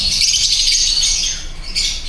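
A flock of small parrotlets keeps up a loud, continuous chatter of shrill squawks and chirps at close range, with no voices over it.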